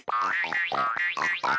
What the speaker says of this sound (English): Boing, Boing, boing, boing, boing.